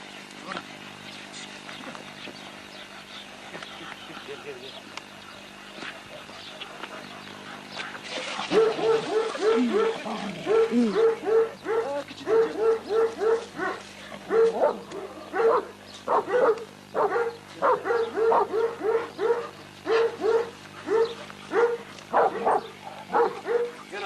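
Turkmen shepherd dogs bark outdoors in a steady run of repeated, fairly loud barks that begin partway through and continue in a regular rhythm, preceded by quieter ambient sound.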